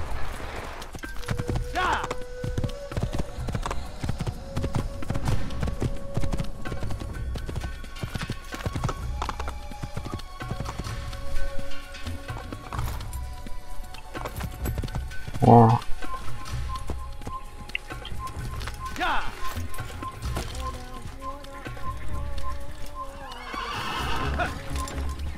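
A horse in Assassin's Creed clip-clops along at a steady walking pace, with several loud whinnies and a snort, while someone talks over it.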